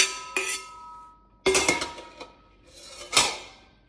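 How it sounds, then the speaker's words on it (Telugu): Fried ridge gourd goes into a pot of Andhra-style dal with a few sharp clinks and scrapes of a metal spoon against the vessel, three distinct bursts up close with quiet gaps between them and no talk. "ఇప్పుడు బీరకాయ ఆల్రెడీ ఫ్రై చేసుకున్నాం కదా, దాన్ని వేసేసుకుంటున్నా."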